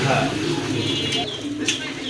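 Pair of imported breeding pigeons in a seller's loft, cooing close by under steady talk from people, soft repeated coos with occasional chirps.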